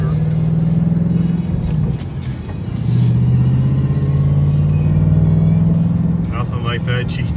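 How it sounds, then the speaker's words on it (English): A 2020 Ford Mustang Bullitt V8 pulls through a gear change, its deep exhaust drone dipping briefly at the shift and then rising again, heard from inside the car with faint cabin noise. "Get a little bit of exhaust now when you shift her."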